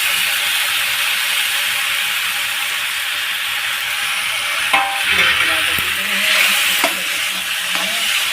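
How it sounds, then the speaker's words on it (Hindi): Onions fried golden brown sizzle loudly in a pan with a constant hiss, then tomatoes go in, bringing a few sharp clatters and a brief surge of bubbling. "देखो हमारे प्याज भी गोल्डन ब्राउन हो गए हैं।"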